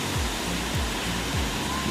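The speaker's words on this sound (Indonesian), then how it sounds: "Dan kita lihat air terjun sangat indah ya." A waterfall in Indonesia, reached after a two-hour trek, rushes as steady broadband roar with a constant even wash throughout, no voices clearly heard.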